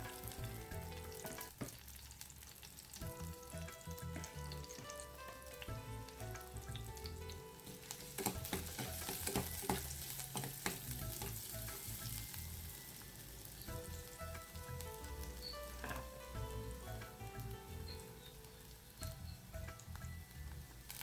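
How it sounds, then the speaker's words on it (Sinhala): Garlic frying in hot oil in a clay pot, with a steady, dense sizzle throughout and occasional louder crackling bursts and faint stirring clatter. "තෙල් ටික රත් වෙගෙන එනකොට මම මේකට සුදු ලුණු දාගත්තා"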